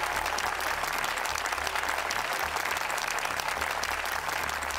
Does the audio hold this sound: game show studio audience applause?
yes